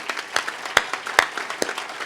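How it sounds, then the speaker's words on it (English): Scattered clapping at a press conference introducing a new athletic director, a handful of sharp, fairly close claps at an uneven pace rather than a full roar. "I'd like to give them a round of applause."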